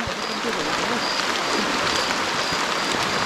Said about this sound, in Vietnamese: Trời, bây giờ đổ mưa to luôn rồi.